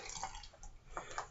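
Water being poured and trickled into a batch of soap, with soft splashing and dripping in short bursts, close and fairly quiet.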